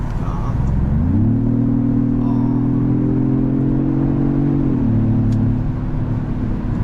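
Genesis GV80 Coupe with a gasoline engine switched into sport mode, a steady low drone that rises in pitch as it revs, holds at a higher hum, then drops back, heard from inside the cabin.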